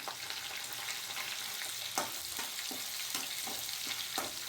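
Garlic-cumin paste and green chilli hit hot oil with popping mustard seeds, giving a steady loud sizzle with a few spatula clinks and scrapes as it is stirred, close up, with no talk.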